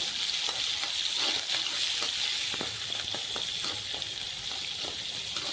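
Onions and curry leaves sauté in oil with cumin and fenugreek, a bright continuous sizzle with regular light stirring scrapes, close and even in loudness, no one speaking.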